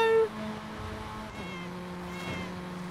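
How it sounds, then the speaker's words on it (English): A car horn that plays a cat's meow sounds in a couple of short, wavering tonal bursts, fairly close and clear, with no talking over it. "Oh, of course you've got the cat horn."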